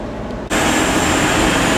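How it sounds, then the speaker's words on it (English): Class 185 TransPennine Express diesel unit passing at Leeds station, a sudden onset of loud broadband rumble and engine drone that continues steadily, close by. "there goes 185147 with a Transpennine Express service to Liverpool Line Street."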